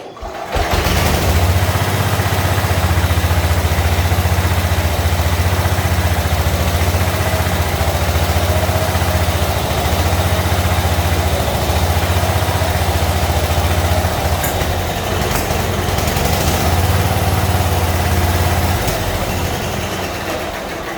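A Simplicity lawn tractor engine idles close by with a loud, steady, low drone that holds for about twenty seconds.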